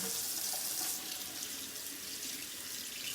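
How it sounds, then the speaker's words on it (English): Water from a tap runs steadily into a sink to rinse a brush during a nighttime skin care routine, a constant close splashing hiss. "Gonna turn on my water to rinse it."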